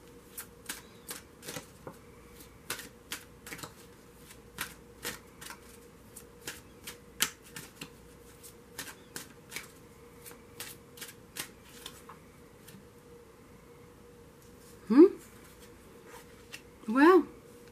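Tarot cards shuffled by hand in a steady run of soft, crisp riffles and flicks, close and quiet, with two louder sweeping slides as cards are drawn near the end.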